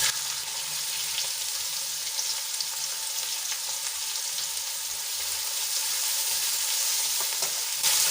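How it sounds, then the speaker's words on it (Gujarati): Two large finely chopped onions fry in hot oil in a pan, giving a steady, close, unbroken sizzle that runs the whole time with no talking. "અને ડુંગળીને સરસ રીતે તેલમાં મિક્સ કરીને ગોલ્ડન બ્રાઉન થાય ત્યાં સુધી આપણે એને ચડવા દઈશું"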